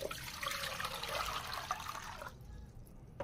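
Water splashes steadily from a container into a pot as brine for sweet spicy santol pickles, a close rushing pour lasting a couple of seconds before stopping and leaving quiet room noise.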